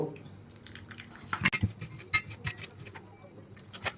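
Water trickles into a bowl of flour and crushed biscuits, giving scattered drips and soft splashes amid small clinks and handling noises nearby.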